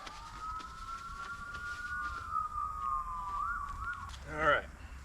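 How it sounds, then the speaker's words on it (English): Emergency vehicle sirens wail far off near a farm workshop during a 1937 John Deere G wheel replacement, faint and wavering, ending in a brief burst of louder warbling. "I'm sure you can hear those sirens."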